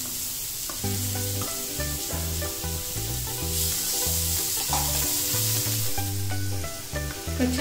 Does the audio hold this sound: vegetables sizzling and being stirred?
yes